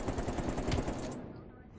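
AK47 fire in Call of Duty: Black Ops Cold War, a short fast automatic burst of cracking shots up close, cutting off after about a second.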